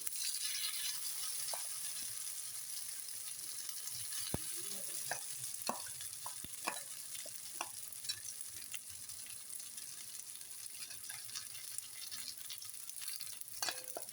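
Steady hissing sizzle of unniyappam batter frying in hot oil, with occasional sharp pops and crackles, close and quiet, no voices.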